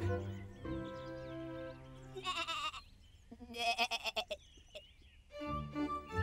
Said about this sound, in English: The sheep bleats. Ba, ba. The sheep bleats.